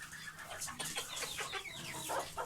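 Hens cluck softly at a distance in a backyard poultry flock during morning release, a few scattered, faint calls with no talk.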